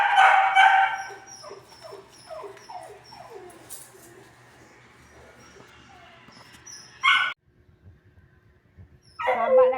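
A hungry dog whimpers and yips in a series of short rising cries, then gives a few sharper barks near the end, close and moderately loud.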